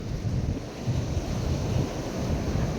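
Sea surf rolling in where a river meets the sea near Malvan on the Konkan coast, a steady close wash of breaking waves mixed with wind buffeting the microphone, with no talking.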